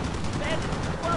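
Machine gun fire from a B-17 bomber in the flight game B-17 The Mighty 8th, a dense rattling burst set against a roaring engine drone, with someone talking over it.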